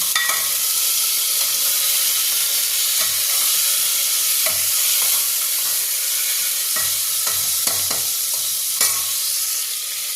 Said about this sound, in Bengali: এবার নুনটা দিয়ে আমি ভালো করে চিকেনটা ফ্রাই করে নেব।